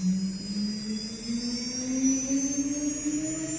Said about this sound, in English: We start the spindle